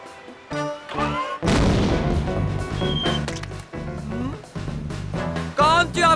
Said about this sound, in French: Un canon à guano.